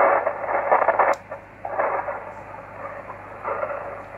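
Shortwave static hisses and swells, carrying a faint, wavering distant signal from an Australian VK4 station, with a sharp crackle partway through.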